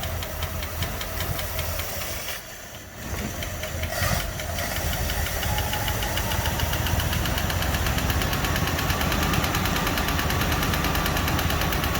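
A Packard car engine with a new Alloyworks radiator runs steadily while its carburetor is adjusted. It idles with a rough, knocking rhythm and briefly drops off and changes pitch before settling back into a constant close-up drone.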